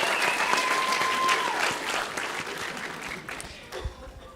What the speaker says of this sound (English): Let's give all of the 7 to 9-year-old contestants a round of applause.